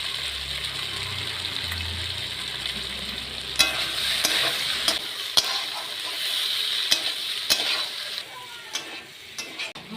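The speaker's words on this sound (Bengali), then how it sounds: "এবার আমি এটা ভালো করে একটু কষিয়ে নেব" Potol and paneer stir-fried with spices and turmeric in a pan, with scraping stirs and spoon clinks over a soft sizzle, fairly close, with a few louder knocks midway.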